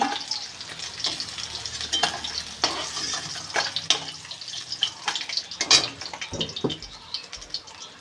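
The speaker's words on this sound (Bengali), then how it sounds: "লবণ হলুদ মাখিয়ে মাছটা ভাজতে দিয়েছি লাল লাল করে মাছ ভাজা হয়ে গেছে" Fish coated in salt and turmeric fries in a pan, a continuous crackling sizzle with irregular sharper pops and spatters, moderately close and steady, with no talking.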